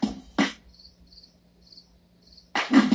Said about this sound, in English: What do you say, little cricket?